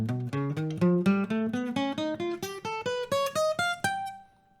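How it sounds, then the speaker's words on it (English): Fingerstyle guitar climbing a whole tone scale, about a dozen evenly spaced plucked notes rising steadily in pitch, clear and close, ending on a held top note that fades out, no voices. "So the whole tone scale is like this."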